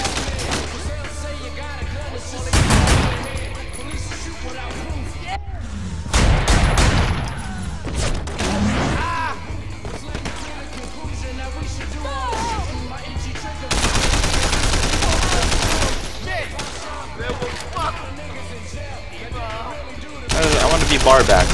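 Gunfire in the Sleeping Dogs video game: rapid machine-gun bursts and single gunshots come in loud clusters with short gaps, mixed with game sounds and occasional voices.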